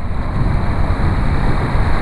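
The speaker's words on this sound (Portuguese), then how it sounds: "Mas hoje tá gostoso de andar de moto, hein, cara?" A Yamaha Fazer 250 motorcycle engine drones steadily while riding, a loud continuous low rumble with wind noise and no talk.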